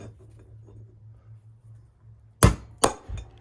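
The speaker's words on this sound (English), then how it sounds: "I'm using a socket extension to act as a punch to beat this race out" A socket extension used as a punch, struck to drive a wheel bearing race out of a trailer hub: two sharp metallic hammer blows close together after a quiet low hum, then a softer knock.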